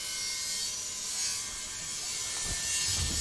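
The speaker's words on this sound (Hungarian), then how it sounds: "Megy a szegély vágózás." A sawing, edge-trimming effect from the video game Children of Morta gives a rasping, mechanical grind, with a sharper burst toward the end.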